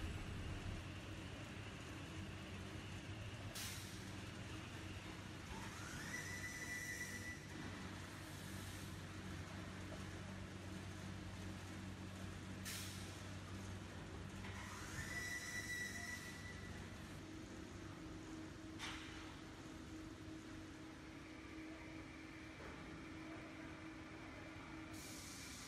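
MgO magnesium oxide board cutting machinery running in a factory, a steady loud mechanical drone with rising whines and brief high screeches recurring every few seconds.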